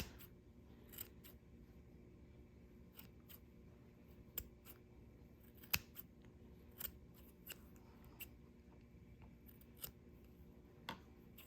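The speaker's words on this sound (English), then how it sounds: "you're just gonna trim it up so that it's all nice. Give it a haircut." Small scissors snip repeatedly as they trim a fluffy crochet yarn pom-pom, giving a dozen or so crisp, irregularly spaced clicks up close over a quiet background.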